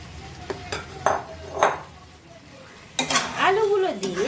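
Mutton and potatoes being stir-fried in a pot for a thin Bengali mutton curry, with a few spaced scraping stirs followed by a denser stretch of clattering and sizzling; a voice murmurs briefly.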